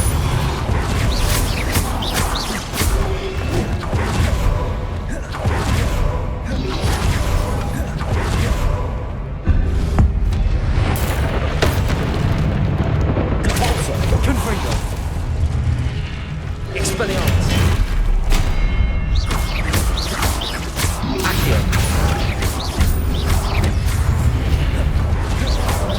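Hogwarts Legacy combat: spells are cast one after another with heavy booming explosions and rumbling blasts, loud and nearly continuous, while voices shout along through the fight.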